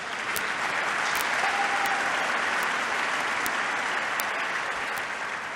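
Continuous applause from a large audience at a Congressional Gold Medal ceremony honoring women of World War II, a steady, dense roar of clapping at moderate distance with faint camera clicks cutting through.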